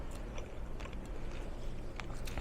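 Crunchy food being chewed with faint crisp bites over a steady low background hum, quiet and close, while cooking lemon pepper salmon with asparagus.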